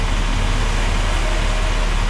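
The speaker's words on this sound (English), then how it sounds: "that's the free tram for tourists" A steady, low mechanical rumble of a free tourist city tram in Australia running close by, constant and fairly loud, with no talking.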